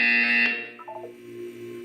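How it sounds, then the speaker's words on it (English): Loud harsh buzzer in the Portal 2 video game, one sustained electronic blare that cuts off sharply, followed by quieter tonal electronic tones fading out. "When you hear the buzzer, look up at the ceiling."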